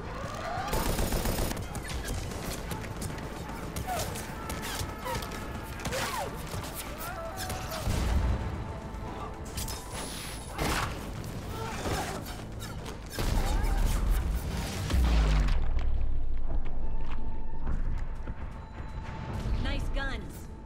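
Defensive gun emplacements firing in the video game Mass Effect 3, dense rapid bursts of gunfire and crashing impacts at varying distance, swelling louder near the end over game effects.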